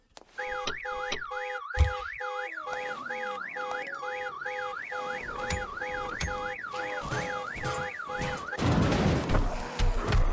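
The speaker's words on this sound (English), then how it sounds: "Well, at least the car alarm works." A car alarm in the video game Night of the Dead blares a fast, rising-and-falling warble for several seconds, loud and close, then breaks off into noisy clatter and rumble.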